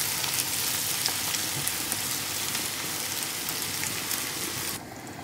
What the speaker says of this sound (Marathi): आतां हे पळय जिऱ्या मिऱ्याक आमच्या बॉयल येयला न्हू